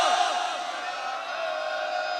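A Sikh congregation answers with the jakara, a massed shout that rings out loudly and then fades into a sustained, echoing crowd roar.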